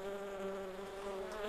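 A steady insect buzz of a fly in the video game The Plan, continuous and close throughout, with no talking.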